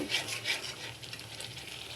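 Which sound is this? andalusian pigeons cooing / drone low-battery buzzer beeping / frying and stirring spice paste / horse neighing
frying and stirring spice paste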